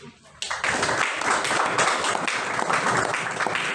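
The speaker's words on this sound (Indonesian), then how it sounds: "Tepuk tangan." A group bursts into hand clapping after a brief quiet moment, then keeps up a steady, dense round of applause at an even, fairly loud level until the end.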